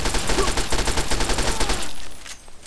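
A double-barrel shotgun fires in the Fallout 3 video game, a loud, close run of rapid, evenly spaced blasts that stops abruptly near the end, followed by a quieter tail.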